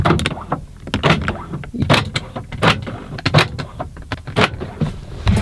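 Repeated short mechanical clicks and whirring thunks of a newly replaced passenger door lock actuator on a Lexus GS300 cycling, close and fairly loud, in an irregular series.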